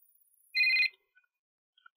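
A single short electronic telephone ring sounds once, clear but fairly quiet, in an otherwise near-silent room in a suspense drama, with no talking.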